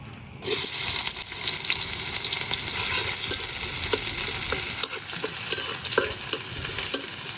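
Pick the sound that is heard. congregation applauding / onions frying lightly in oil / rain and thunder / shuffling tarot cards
onions frying lightly in oil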